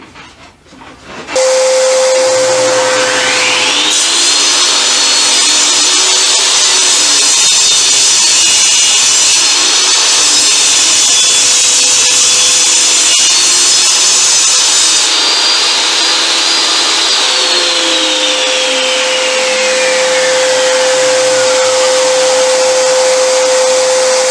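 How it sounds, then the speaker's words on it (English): A table saw runs up to speed and cuts through wood to trim a sled to size, giving a loud sustained whine with a high cutting tone, then spins down at the end. "raise my blade up and trim it down to the 14 inches that I wanted"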